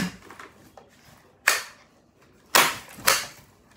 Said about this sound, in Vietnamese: Các em nghe cái súng này chưa?